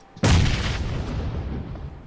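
A grenade goes off in a competitive esports shooter match: one loud, sudden blast that rolls into a long, rumbling decay lasting about two seconds, with no talk over it.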